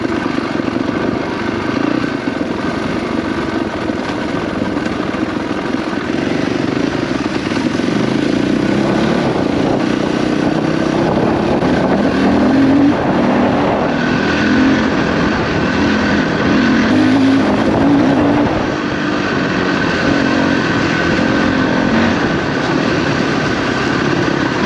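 Off-road motorcycles, a Crossfire 450RR and a Honda CRF250L, ride on dirt trails. Their engines make a continuous, loud, unbroken roar that rises and falls slightly for the whole stretch, with no talking.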